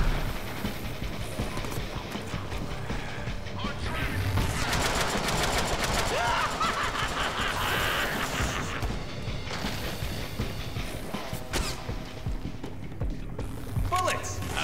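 Gunfire in the Deadpool video game: rapid bursts of shots and crashing impacts over layered action noise, fairly quiet overall, with voices talking in places.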